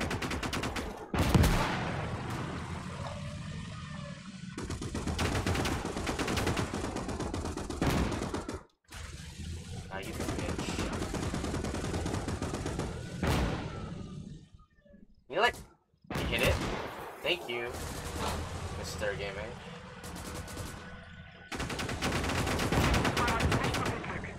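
Sustained machine-gun bursts from a Maxim gun in the World War II game Gates of Hell, loud and dense with overlapping gunfire across most of the stretch, broken by a couple of brief lulls, with a voice talking over the fighting.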